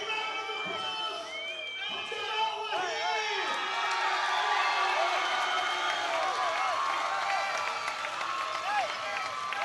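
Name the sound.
crowd booing a fight decision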